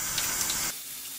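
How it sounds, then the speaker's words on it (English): Water rushes steadily through a flexible line taken off a turbocharged M50-engined BMW E30, a close, even hiss that cuts off abruptly partway through. "Now I need to take it off and run water through it since it's confirmed good."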